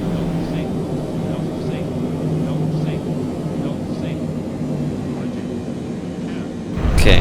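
A Boeing 777 comes in to land in Microsoft Flight Simulator 2020, a steady loud jet engine roar with faint cockpit tones, swelling into a rumble at the end.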